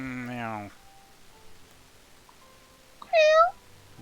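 A house cat meows once, a short rising-and-falling call near the mic, after an opening stretch of voiced sound; quiet room in between.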